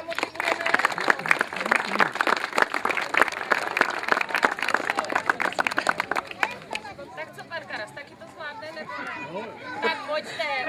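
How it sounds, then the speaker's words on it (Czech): Father's Day applause at a nursery school in Brantice: a crowd of parents and children claps loudly for about six seconds, then it fades into lively chatter and children's voices. "Takže zase velký potlesk,"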